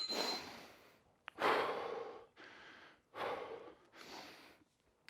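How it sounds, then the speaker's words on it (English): Heavy, effortful breathing during a bodyweight Tabata workout: several loud, close exhales and gasping breaths in uneven bursts separated by short pauses, with no talking. "You should be struggling to breathe, but going into the next rep anyway."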